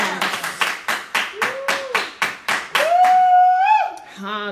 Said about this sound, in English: Clap your hands and say, yes.